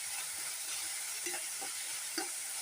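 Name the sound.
ginger garlic paste being sautéed in a pan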